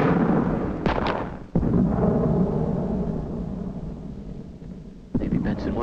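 Cannon fire in a 1976 re-enactment film of the Fort Stanwix siege: a few sharp booms break through continuous voices, with one blast near the start, one shortly after, and another near the end.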